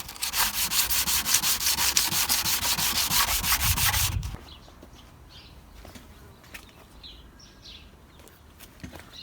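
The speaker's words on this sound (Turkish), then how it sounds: "biraz daha ince zımparalarla zımparalayıp" Rapid rhythmic rasping strokes of hand sanding with fine sandpaper on a sun-damaged Chevrolet Lacetti tail light scrape loudly for about four seconds, then stop, leaving quiet background with faint bird chirps.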